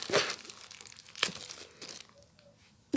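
Packaging for a phone charger is torn and crinkled open at close range in a few sharp ripping bursts with brief quiet pauses between, fairly faint overall.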